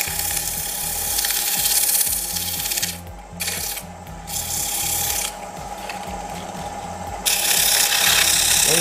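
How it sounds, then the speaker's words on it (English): Wood being sanded by hand for a homemade tippe top gives close, continuous rasping strokes that rub back and forth steadily for several seconds, with brief pauses and no talking. "I don't want to sand too far over this way because I still got to finish this end off."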